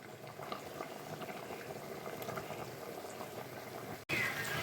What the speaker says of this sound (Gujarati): આ રીતે આપણે બધા છે તે બોઇલ કરી દઈએ.